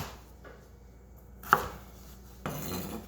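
A knife dicing celery on a cutting board, a few sharp, close chops spaced apart, with one crisp hit standing out amid quiet room tone.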